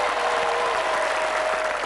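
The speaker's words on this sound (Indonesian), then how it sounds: "Tepuk tangan untuk Mas Juned." Studio audience at a family quiz game show applauding, a steady wash of dense clapping filling the whole moment at even loudness, with no talking over it.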